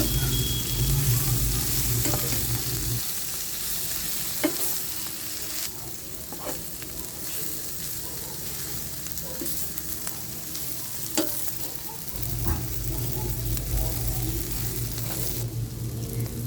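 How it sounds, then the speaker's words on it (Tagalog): Cassava leaves being stirred in a hot pan with a steady sizzle, scraping strokes and light clacks of the utensil repeating, close and fairly loud throughout. "Then, i-add na natin yung ating leaves. Then, mix lang natin."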